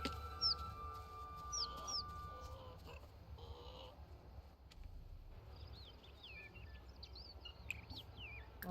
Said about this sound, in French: Elle est devenue une poule adulte.